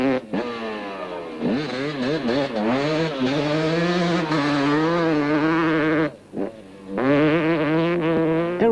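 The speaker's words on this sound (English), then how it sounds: "It was like the breakfast run on sand as bike after bike flash past in quick succession." Racing motorbikes flash past one after another on sand during the 1998 Toyota 1000 Desert Race, their engines rising and falling in pitch as they scream by close and loud in quick succession.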